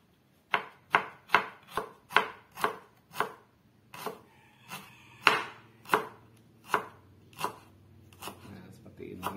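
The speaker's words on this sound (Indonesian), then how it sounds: "bawang merahnya juga sama bawang putihnya diiris tipis-tipis seperti ini" A knife thinly slices shallots and garlic on a cutting board with about a dozen crisp, evenly paced chops close to the mic, and a faint voice is heard briefly in between.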